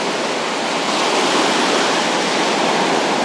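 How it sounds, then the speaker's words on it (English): Strong wind roars across a Florida beach near North Port, a loud, unbroken wash of broadband noise blended with surf and blowing sand, with no voices. "the wind's blowing pretty hard"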